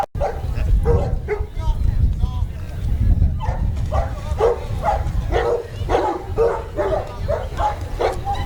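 A dog at a water sports dog demonstration in Port Bourgenay, Talmont Saint-Hilaire, barks and yips repeatedly in a quick series, close and loud over a low outdoor rumble, with people talking nearby.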